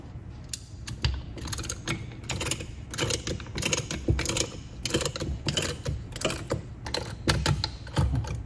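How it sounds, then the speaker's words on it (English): A ratcheting brake spreader pushing brake caliper pistons apart on a TVR Vixen 2500: loud, close, repeated ratchet clicks in quick uneven bursts, with short pauses between strokes and no talking. "I have my handy ratcheting brake spreader. Let's get this in here and see if we can push these pistons apart or not."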